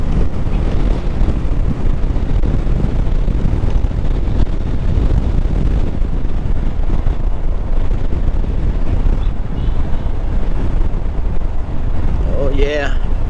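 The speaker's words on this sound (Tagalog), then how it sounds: "Lakas pa ng hangin." Strong wind roars and buffets the microphone continuously during a boat trip to Jomalig Island, loud and close. A brief voice rises near the end.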